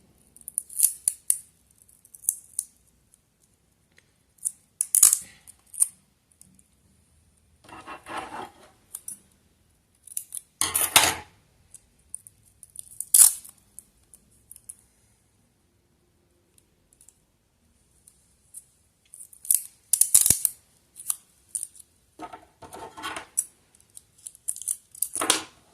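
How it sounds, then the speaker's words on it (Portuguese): Adhesive tape is torn and pressed onto a home sewing machine while sewing knit fabric, heard as sharp crackling rips and short sticky bursts separated by silences, close and crisp. "E eu vou vir com um pedaço de durex e vou colocar aqui assim."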